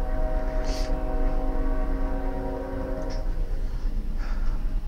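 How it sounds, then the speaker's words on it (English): A train rumbles steadily nearby, a low continuous roar with a horn-like tonal drone, while someone murmurs briefly over it. "Fuck off train in the background."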